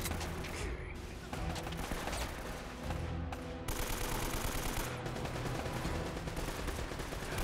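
Rapid bursts of gunfire from the video game Uncharted: Drake's Fortune sound in dense, overlapping volleys throughout, loud and continuous with no clear pauses.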